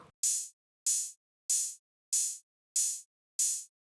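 A crisp electronic hi-hat sample in a halftime drum pattern sounds alone, ticking six evenly spaced bright hits with short airy decays and silence between them.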